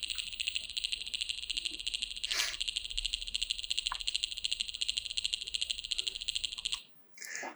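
A blue drone spinning slowly produces a continuous, pulsing high-pitched whir with a rapid rhythmic flutter, holding steady for several seconds before dropping away near the end.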